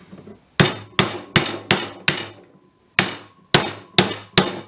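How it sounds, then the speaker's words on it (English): A rubber mallet strikes a part of an Ashford table loom during assembly: nine sharp, loud, close knocks in an uneven rhythm, each ringing briefly and then decaying, with a short pause near the middle. "And then with your rubber mallet"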